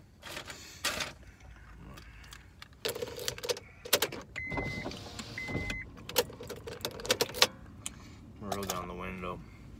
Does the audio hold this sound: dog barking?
no